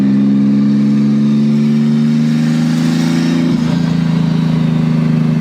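A turbocharged Nissan Maxima making over 550 wheel horsepower accelerates hard with a steady, loud engine drone that rises in pitch, drops briefly on a gear change, and then climbs again, with no talking over it.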